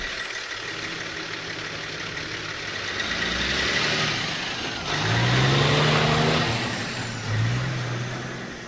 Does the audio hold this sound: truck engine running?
yes